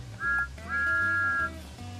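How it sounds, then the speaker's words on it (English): A steam locomotive whistle styled after Thomas the Tank Engine in Train Sim World 5, sounding two clear tonal blasts, a short one followed by a longer sustained one, over low rumbling engine noise. "And sound the whistle."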